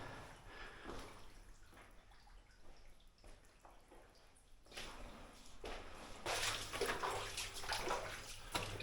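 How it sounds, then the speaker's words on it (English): A waterfall splashes somewhere deep in an old collapsed mine work area, a faint, distant rushing and trickling that swells louder and closer in the latter half, with no voices. "So I hear a waterfall in the back there."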